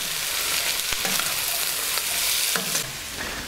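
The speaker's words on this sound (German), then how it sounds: "Jetzt schön alles anbraten." Vegetables, including carrots, frying and being stirred in a cast-iron Dutch oven for soljanka, with a steady broadband sizzle and intermittent scraping stirs, close and continuous.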